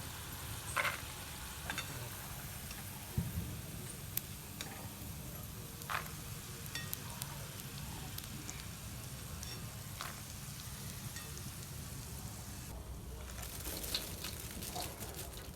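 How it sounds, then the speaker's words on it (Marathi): Peanuts and garlic frying in oil for homemade puffed-rice chivda, a steady close sizzle with scattered crackles and a few sharp ticks throughout. "तळल्याला लसण टाकलं याच्यामध्ये आता शेंगदाणे तळून घेतले"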